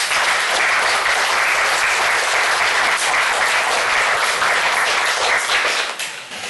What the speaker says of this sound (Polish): Proszę o oklaski dla pana profesora.